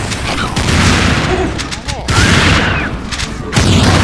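Regular shotgun blasts in Serious Sam 2 co-op play, several loud booming shots with crashing impacts, packed close together over a busy mix of game noise.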